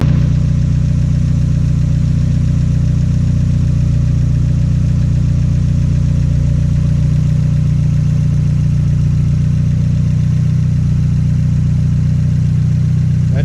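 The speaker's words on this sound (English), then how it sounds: "turbo is just ripping. Like, she's already spooled up at idle." An Honda Integra engine fitted with a GTX 3076 billet turbo idles loudly and steadily, a continuous close rumble with a faint hiss from the already spooled turbo over nearly fourteen seconds.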